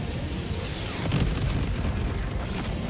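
A cluster bomb air strike in Helldivers 2 erupts as a sustained, loud rumbling barrage of overlapping blasts that swells slightly midway and keeps booming to the end.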